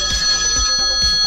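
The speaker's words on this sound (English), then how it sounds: "My phone's ringing." A mobile phone rings with a steady electronic tone pattern, a repeating pulse of pitched chimes about every half second, loud and close.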